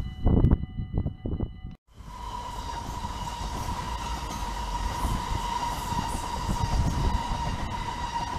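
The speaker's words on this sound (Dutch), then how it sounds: "Wat veel, er komt een trein aan." A train rolls into Lage Zwaluwe station in North Brabant with a loud, continuous rumble and a steady high tone, following a short burst of louder clatter at the start.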